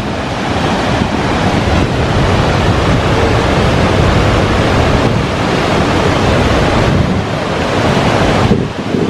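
A constant, heavy roar of falling water from Cameron Falls in Waterton Lakes National Park fills the air, steady and loud with no pauses or voices.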